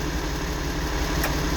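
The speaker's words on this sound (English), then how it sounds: "The tractor is running." An International Harvester 88/86 series tractor engine runs at a steady idle, a constant close rumble with no voices.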